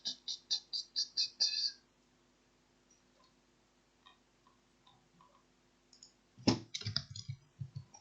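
Quick keystrokes tap on a computer keyboard in a burst of about seven clicks, then a quiet stretch with faint taps, then another dense cluster of typing near the end.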